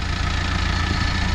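A tractor engine idles steadily at close range on a farm, a continuous low rumble with no breaks and no voices.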